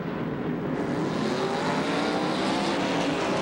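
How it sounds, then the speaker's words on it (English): NASCAR Busch Series race cars roar off the start at Indianapolis Raceway Park in 1998, a loud continuous engine drone swelling slightly, heard from a distance as one blended mass of sound with no talk. "We get set for 200 laps of racing action,"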